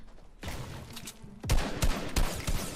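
Rapid bursts of gunfire in the Fortnite video game, a thin stretch of shots followed by several loud, sharp volleys close together, with no talking.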